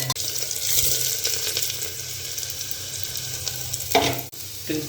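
Cumin seeds and garlic sizzle in hot oil in a pan for a tadka, a steady bright frying hiss with a few clinks and stirring noises.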